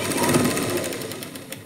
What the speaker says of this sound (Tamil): இப்போ ஒரு தையல் போட்டுக்கலாம்.